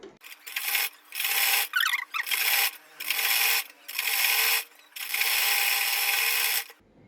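Sewing machine running a seam along a plain frock's armhole, in a series of bursts of rapid mechanical whirring separated by short pauses, close and clear with no talk.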